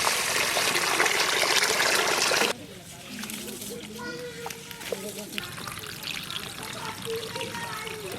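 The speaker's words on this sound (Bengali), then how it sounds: "গোবিন্দভোগ চাল, চালটাকে ভালো করে ধুয়ে নেব।" Gobindobhog rice is washed in water, opening with a loud steady pour and splash, then quieter sloshing and trickling as a person talks over it and a voice appears in the background.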